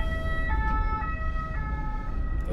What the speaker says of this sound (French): on laisse passer, on facilite le passage à l'ambulance